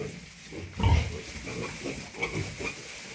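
Sows and piglets grunt low and close in short bursts while feeding, one deep grunt standing out, with shuffling and soft noises around them.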